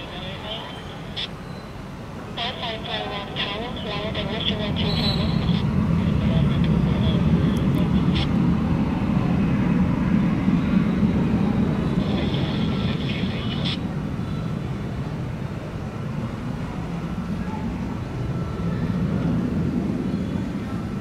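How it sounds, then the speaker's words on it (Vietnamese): A Cathay Pacific Airbus A350-1000 takes off from Tan Son Nhat airport, its jet engines building into a loud, sustained roar that swells and slowly fades, while a voice narrates over it. "Còn bây giờ thì mời mọi người chiêm ngưỡng pha cất cánh của chiếc máy bay này."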